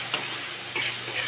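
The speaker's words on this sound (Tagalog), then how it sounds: "Tapos halu-haluin." A small clay spoon stirs a mashed food mixture of crushed beans, giving three short scraping, clicking strokes close up over a faint steady hiss.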